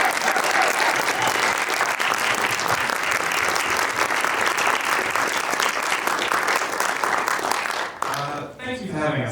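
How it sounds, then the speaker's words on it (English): An audience at a 2022 film screening Q&A applauds the cast and crew. Thick, continuous clapping fills about eight seconds, then quickly dies away as a voice begins to speak. "Please give a warm applause to the cast and crew here."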